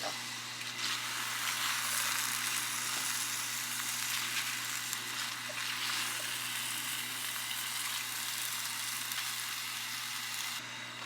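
A pot of boiling water bubbling and hissing steadily and fairly loud as spinach blanches in it, a continuous rolling simmer with no talking.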